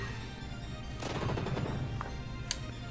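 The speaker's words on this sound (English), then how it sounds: "Yeah, the aura cannon." Aura cannon attack from the Final Fantasy VI Tactics demo: a burst of crackling blast energy swells after a second of quiet game music, followed by a short ringing chime and a sharp high sparkle near the end.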